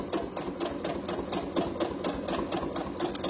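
A sewing machine runs steadily, stitching a round seam on a fabric scrunchie with elastic, its needle pulsing in a fast, even rhythm close up, with no voices over it.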